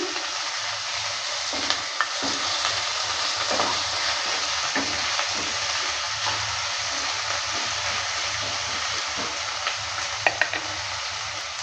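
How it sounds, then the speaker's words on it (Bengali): Chopped onion sizzles steadily in a pan of oil for a chana masala, with a constant close hiss broken by a few soft scrapes and clicks as it is stirred. "পেঁয়াজটা দেওয়ার পর ভালো করে আবারও নেড়ে চেড়ে দিচ্ছি"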